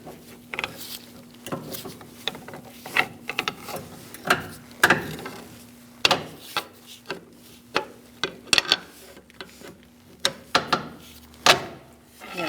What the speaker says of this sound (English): we're just going to use a pry bar to take it out the rest of the way